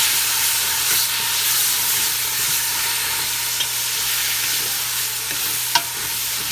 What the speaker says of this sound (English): I'll add my pureed tomatoes and give it a stir.